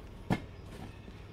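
A train runs in the railway simulation game Derail Valley, with a steady rolling rumble broken by one sharp clank, and no talk over it.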